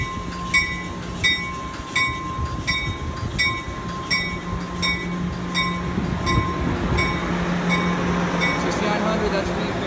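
Passenger train departing Fullerton station during Friday night rush hour, with loud rhythmic clickety-clack wheel beats at first, then a rising rumbling roar and squealing wheels as it moves off; voices are present.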